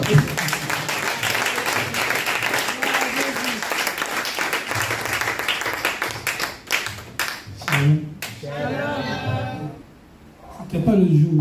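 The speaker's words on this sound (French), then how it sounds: "On peut applaudir" A church congregation at a French Sunday service of testimonies applauds loudly for several seconds while voices carry over it, and then the clapping thins out into spoken talk and a brief pause.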